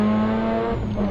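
A replica Mazda RX-8 SP rally car drives past with a steady, tonal engine note at high revs, loud and close, with a faint hint of tire noise and no talk.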